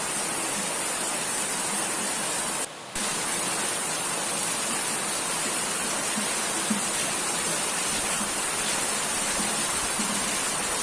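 Heavy rain pours down in a dense, unbroken hiss that stays loud and even throughout, with water running on the road nearby. No one speaks.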